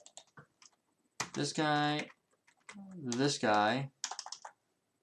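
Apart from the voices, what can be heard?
typing on a computer keyboard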